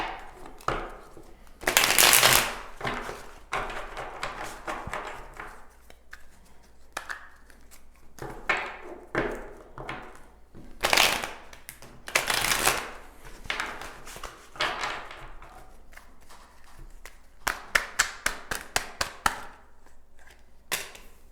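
Tarot cards are shuffled and handled in bursts of crisp riffling and tapping, loud flurries separated by quieter rustling, with no talking.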